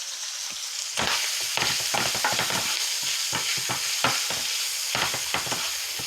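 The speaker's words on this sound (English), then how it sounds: "that's sizzling away nicely" Beef sizzles and fries in a pan for keto wraps, a constant hiss broken by repeated scraping stirs of the meat, close and fairly loud.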